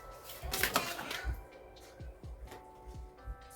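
Tarot cards riffle and shuffle in a quick papery burst, then several cards slap and drop onto a surface in scattered soft taps, close and fairly quiet, with no talk.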